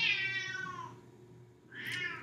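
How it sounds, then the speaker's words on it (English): Cats meowing and yowling in a tense standoff, one drawn-out cry sliding downward, then a brief pause before another sharp, rising yowl, faint and close with no other sounds. "Kitty wars."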